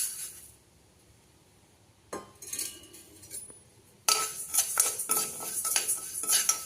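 Rice dry-roasting for idly podi in a pan, a spoon scraping and clinking against the metal as it stirs, quiet at first, then an abrupt burst of dense, continuous scraping and rattling.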